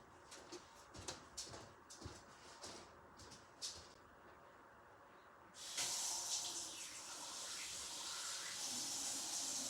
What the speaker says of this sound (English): just going to quickly clean the airbrush, put some different colours in there.